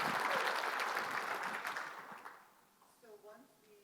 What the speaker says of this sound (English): Give Debbie a round of applause